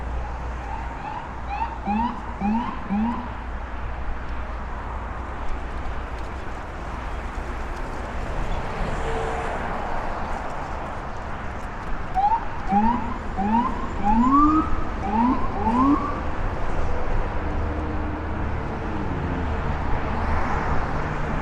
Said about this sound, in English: So we have an ambulance, we have a police car.